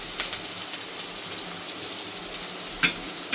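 Chopped green onion dropped into hot oil already tempered with cumin and turmeric, giving a close, steady crackling sizzle with a sharper splattering burst near the end, and no one speaking.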